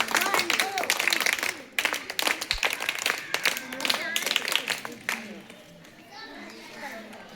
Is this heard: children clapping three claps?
yes